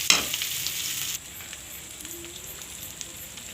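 Two eggs sizzling in a pan of cooked-down tarka as they are stirred, an initial burst of loud frying with a clatter that settles into a softer, steady crackle.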